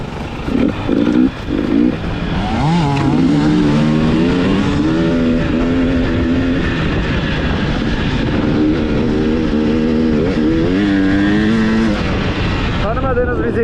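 An enduro motorcycle revs on a dusty dirt trail, its engine rising and falling in loud, close throttle blips and sustained wavering drone, with a voice speaking over it.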